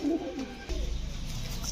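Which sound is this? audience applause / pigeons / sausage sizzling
pigeons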